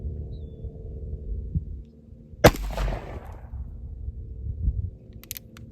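A single sharp gunshot from a heel-based .38 centerfire cartridge fired in a 36-caliber cartridge conversion revolver, loud and close with a short decaying tail over a quiet outdoor background.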